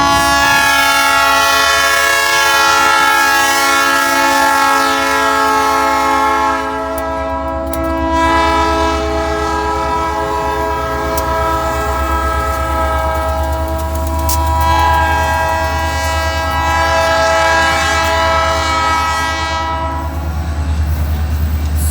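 Three matching locomotives pass close by, blasting a loud, sustained multi-tone horn that breaks off briefly and resumes, over the rumble and rattle of the passing train.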